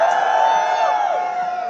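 A stadium crowd at the Wankhede during an IPL cricket occasion lets out a sustained, tonal chant or cheer, many voices blending into one loud ringing roar that slowly falls away.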